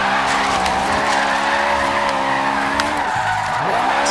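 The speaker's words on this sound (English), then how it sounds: "burn that tire" A 2016 Vauxhall Corsa VXR AWD with a drift setup screeches its tyres loudly and continuously in a burnout, with the engine droning underneath and a shift in pitch near the end.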